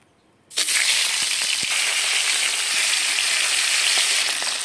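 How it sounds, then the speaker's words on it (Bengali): Hilsa fish heads hit hot oil in a wok and burst into a loud, steady sizzle that starts after a brief quiet moment and keeps crackling throughout. "কড়াইতে তেল দিয়ে দিয়েছি এবারে ইলিশ মাছের মাথাগুলো ভালো করে ভেজে নেব"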